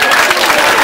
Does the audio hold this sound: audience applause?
yes